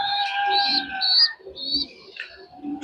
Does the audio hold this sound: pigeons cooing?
yes